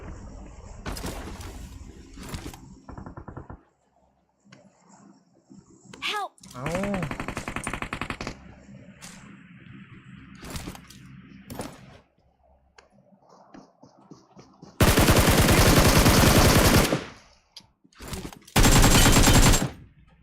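PUBG gameplay gunfire, with short single shots, loud sustained automatic bursts toward the end and clicking in between, mixed with other game sounds and a faint voice at moments.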